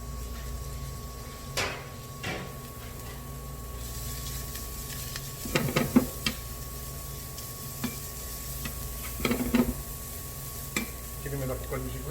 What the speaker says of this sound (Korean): 기름에다 볶아주시고요.